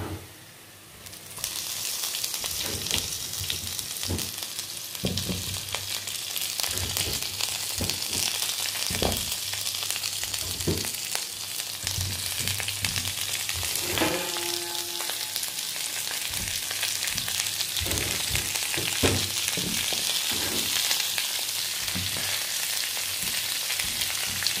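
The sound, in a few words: vegetables slowly cooking in a pan over low heat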